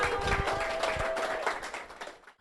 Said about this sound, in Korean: 이럴 때 서로를 위해서 박수 한번 칠까요?